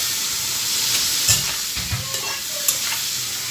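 Pointed gourd (potol) frying in a pan with a little turmeric, a steady sizzle broken by several close scraping stirs of a spatula, with no voices.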